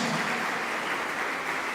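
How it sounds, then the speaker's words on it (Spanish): A steady wash of applause from a church congregation for a priest, dense and even throughout, moderately loud with no voices standing out. "Un fuerte aplauso para este sacerdote"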